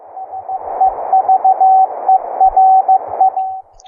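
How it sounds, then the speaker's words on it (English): Morse code CW tones from an HF radio fed through a line input, a single steady pitch keyed in short and long bursts, clear and fairly loud over a soft hiss. "I have a line in, so I have you may hear some CW in the background"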